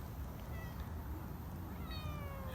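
A sick cat meows a few times in thin, drawn-out cries, fairly faint against a steady outdoor background hiss.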